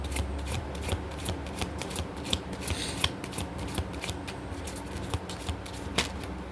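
Playing cards are shuffled repeatedly at close range, giving a run of quick riffling and soft snapping bursts with brief pauses between them, quiet and with no talking.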